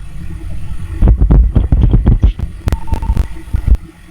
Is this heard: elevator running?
yes